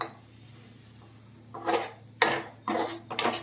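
Semolina (rava) roasting in a pan for jaggery rava laddu gives a quiet stretch, then several loud scraping and clattering bursts as a utensil stirs against the pan.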